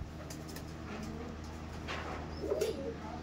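A Kasuri pigeon pair cooing in a loft, faint low coos under a steady background hiss, growing a little more distinct toward the end.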